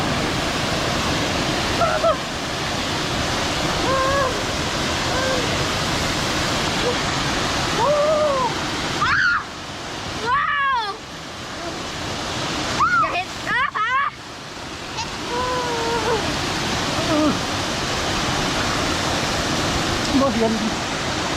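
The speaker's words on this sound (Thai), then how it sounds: "มาเที่ยวน้ำตกครั้งแรกครับ ดูแล้วไงน้ำตก" Wang Duean Ha waterfall in Thailand roars as a steady, loud broadband rush of falling water throughout, with a voice speaking briefly over it partway through.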